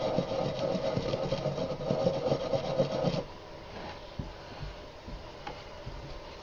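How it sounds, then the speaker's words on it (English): A nylon cleaning brush lightly scrubs a gun, giving a steady close rasping rub for about three seconds before dropping to faint scattered scratches and handling noise. "I'm just lightly scrubbing."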